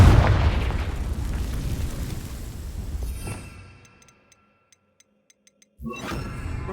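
A Confringo fire spell bursts in the Hogwarts Legacy video game, a loud booming blast that rumbles for about three seconds, fades into near silence with faint ticks, then a second burst of noise kicks in.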